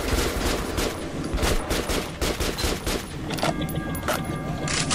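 Rapid automatic gunfire and bursts of shots rattle loudly and almost nonstop in the video game Metro 2033 Redux, with sharp repeated cracks filling the whole stretch.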